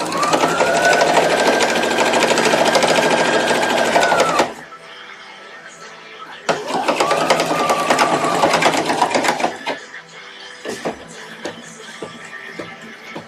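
A sewing machine stitches a rolled hem on a Victorian evening dress, running loud and steady in two long close bursts separated by a pause, then giving way to scattered clicks and handling noises.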